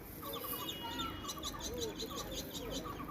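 Pigeons feeding on paddy grains coo and flutter close by, with soft pecking clicks beneath a quiet, steady background.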